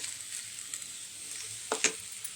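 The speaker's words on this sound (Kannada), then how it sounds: "ಹಾಗೆ ಡ್ರೈ ರೋಸ್ಟ್ ಮಾಡ್ಕೊಳ್ತಾ ಇದ್ದೀನಿ." Chickpeas dry-roast in a pan with cumin, mustard seeds, curry leaves, pepper and grated coconut. A soft, steady hiss is heard up close, with a couple of brief scraping clicks from stirring near the end.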